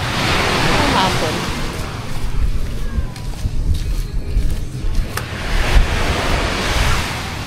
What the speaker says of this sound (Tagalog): Pero lakas ng alon na.